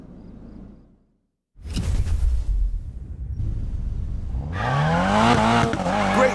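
A car drifts in Need for Speed Payback: after a brief silence the engine roars in, then tires squeal in rising, wavering tones as the car slides, loud and close.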